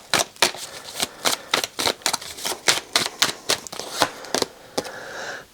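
Tarot cards are shuffled and drawn, giving a quick series of sharp, close flicks and snaps in an uneven rhythm, about a dozen crisp strikes, with no talking.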